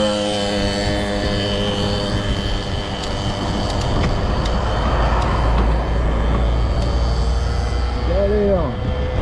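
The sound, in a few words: road traffic passing on a road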